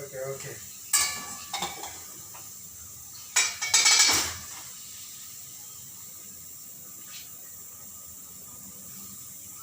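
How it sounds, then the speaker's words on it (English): Papadam frying in a home kitchen pan gives short bursts of crackling sizzle near the start and again in a louder cluster midway, then settles into a faint steady hiss. "This is the papadam that I am frying"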